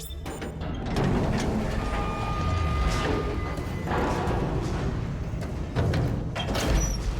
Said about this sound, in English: I like the trams a lot in this game